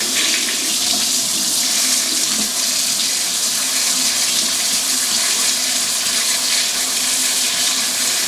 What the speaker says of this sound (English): I'm rinsing it with water because